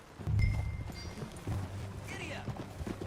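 Horse hooves clip-clop at a steady pace during riding in the video game Red Dead Redemption 2, close and fairly loud, with a voice speaking over them.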